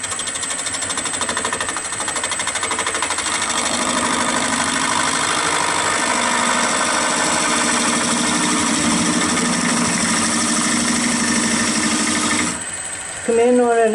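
A skew chisel cutting wood on a lathe while turning a baseball bat, producing a loud, steady buzzing whine with the motor's hum underneath, ending abruptly before a short burst of talk.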